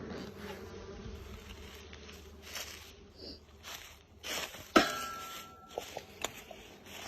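Honeybees buzzing around a hive, a steady insect drone with individual bees passing close, plus a few light clinks and knocks near the middle.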